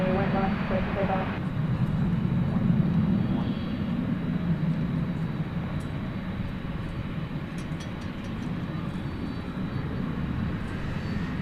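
An airliner's engines roar steadily during a night takeoff at DFW Airport, a broad continuous rumble with sparse clicks, and a voice talks near the start.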